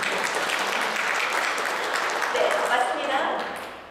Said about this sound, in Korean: 한번 박수 쳐주시겠습니다